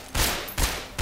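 Gunfire in the video game Half-Life 2 comes as loud, close bursts, about three sharp blasts in quick succession.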